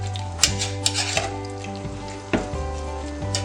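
Cucumber pachadi being stirred with water and salt in a bowl, with a few sharp spoon clinks and scrapes over a steady tonal hum.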